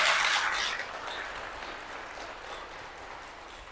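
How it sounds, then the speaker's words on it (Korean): A church seminar audience applauds in a hall, dense clapping loudest at the start then holding steady and slightly softer to the end. "박수 한번 올리세요"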